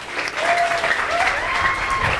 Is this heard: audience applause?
yes